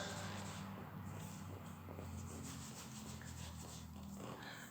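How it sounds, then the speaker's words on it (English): Cedar sawdust mixed with wax polish is rubbed and stirred by hand for buffing a marble floor, giving a steady, close gritty rubbing and scraping texture with low background hum. "Mix well wax polish in Cedar sawdust."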